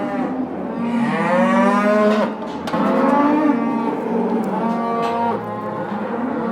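Cattle moo loudly and close by, long drawn-out lowing calls that overlap, from more than one animal, with no talking.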